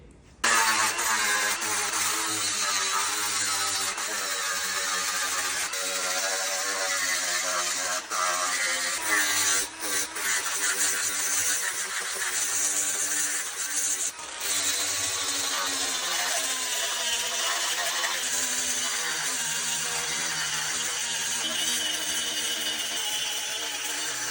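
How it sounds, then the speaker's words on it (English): An angle grinder dresses down welds on steel brackets for a Chevy C10 4x4 truck build, a loud continuous whining grind with brief dips as the tool lifts off the metal. "we're gonna dress down the welds and get them ready for the double shear plating."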